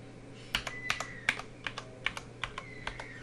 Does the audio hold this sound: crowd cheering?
no